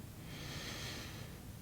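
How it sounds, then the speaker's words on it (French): A long, deep breath drawn during a vinyasa yoga flow, a soft, steady airy rush held close and quiet for over a second, with no talking over it. "Une dernière respiration."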